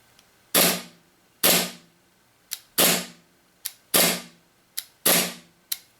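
A WE 1911 4.3 Desert Warrior gas blowback airsoft pistol fires about five sharp, loud cracks at an uneven pace, each trailed by a short hiss. A softer metallic click falls between the shots, with no talking.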